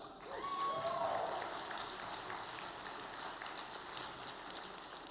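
Applause from a keynote audience at the Netroots Nation 2024 conference, a steady wash of clapping that holds at a moderate level for several seconds, with a brief whistle near the start.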